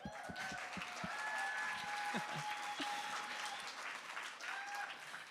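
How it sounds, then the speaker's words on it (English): Audience at an awards ceremony claps steadily and softly for a while, the applause fairly distant and even, with faint voices mixed in. "Clap it up."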